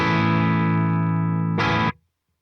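Electric guitar played clean through a BluGuitar Amp 1 with the clean channel volume at maximum, one sustained chord ringing close and steady, then a short re-strum before stopping into silence.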